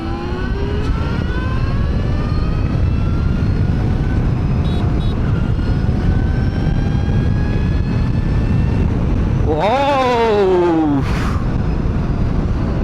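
An Ultraviolette X-47 Recon electric adventure bike rides off-road, its motor whining in steady rising tones over constant wind and tyre rumble, then swelling into a loud, sweeping surge near the end.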